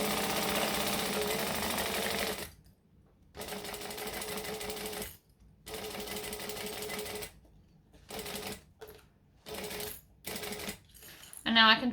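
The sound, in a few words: sewing machine chain sewing through foam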